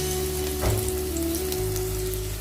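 Garlic and ginger sizzling in a hot pan while being stirred, a steady bright frying hiss with a brief clatter of stirring and a low hum underneath.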